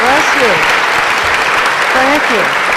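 Loud audience applause in a hall at an event honoring an actress at the Clinton School, a dense steady wash of clapping with a nearby voice speaking briefly over it.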